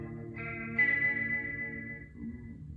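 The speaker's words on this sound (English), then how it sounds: "Now I changed up the sound of the guitar again. I used another different amp, and I used different pedals" An electric guitar tuned to drop C plays a chord that rings out through an amp with chorus and echo pedal effects, sustaining and slowly fading, then a softer note.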